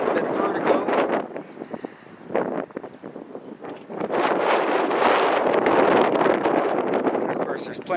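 Wind buffeting a microphone at the top of an observation tower in a park, loud gusty rumbles and rushes that come and go, with a person talking during the gusts.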